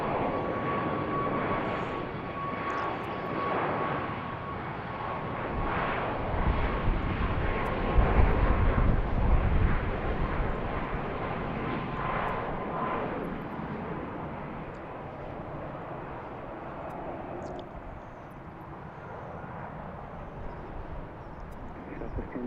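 A jet airliner takes off at BWI airport on a spring afternoon, a steady broadband engine roar that swells toward the middle and then slowly fades, loud and fairly near with no talk over it.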